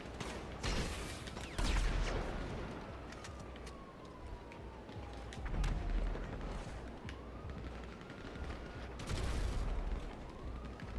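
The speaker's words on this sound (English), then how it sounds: "He's spamming grenade launchers." Repeated booming grenade launcher blasts and bursts of gunfire in a chaotic GTA V Online firefight, with a wavering siren-like tone sweeping underneath.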